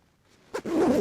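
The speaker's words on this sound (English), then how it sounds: "and then I zip it up." A jacket zipper pulled up in one quick rasping stroke after a brief rustle of fabric, close and fairly loud, ending in a short sustained swish.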